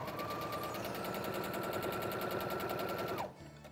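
A sewing machine stitches the side seam of a fabric cushion, running in a steady, fast mechanical chatter for about three seconds before stopping abruptly, close and loud with no voices.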